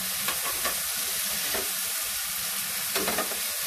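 Mushrooms frying in a pan with a little oil, a steady close sizzle with occasional stirring scrapes and soft bursts, no voices.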